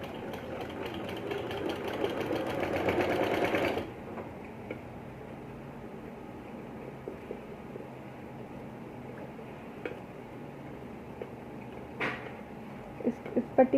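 A sewing machine stitches a button placket onto a kurta, a dense whirring burst for about four seconds, then stops, leaving faint clicks and handling noises.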